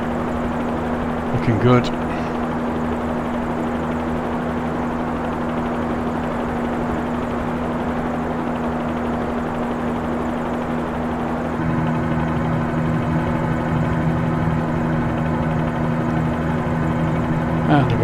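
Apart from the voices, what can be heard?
helicopter flying in video game Microsoft Flight Simulator 2020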